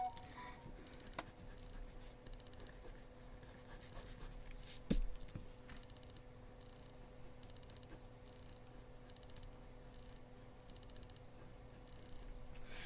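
A pencil sketching an insect illustration on paper gives a faint, steady scratching and rubbing throughout, with one brief tap midway in a quiet room.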